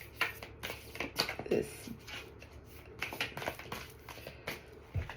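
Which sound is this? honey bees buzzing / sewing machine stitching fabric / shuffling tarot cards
shuffling tarot cards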